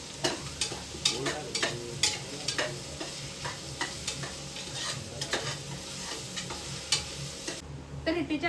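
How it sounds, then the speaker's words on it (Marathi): Onions fry in a pan, a soft steady sizzle broken by repeated scraping and clinking of a spatula stirring them, fairly quiet and close, with no talking. "कांदा जो आहे व्यवस्थित फ्राय करून घेऊया."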